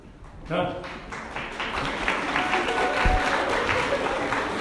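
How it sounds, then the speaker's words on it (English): A crowd's applause rises quickly and holds as sustained, dense clapping from an audience, loud and continuous to the end. "I'd like that applause."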